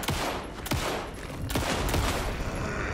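Gunfire in the video game Alan Wake 2 rings out as several loud, close shots in quick succession, each with a sharp crack and a booming tail, over constant background noise.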